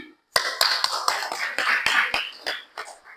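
Hand clapping from a class audience after a presentation, a short run of sharp, uneven claps, close and fairly loud, following a brief silence.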